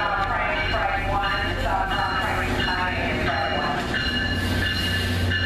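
A short three-car commuter train with two locomotives passing close and loud, a steady roar of engines and wheels with rail clatter that runs through the whole stretch.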